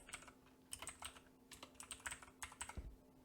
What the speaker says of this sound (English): We're going to type in package control.